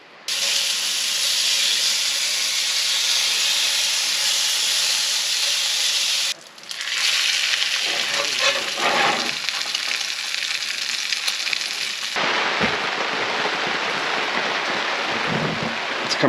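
Rain pours steadily onto a rain-soaked camp in the forest, a loud, dense, continuous hiss with shifts in texture as the patter changes, and no voices.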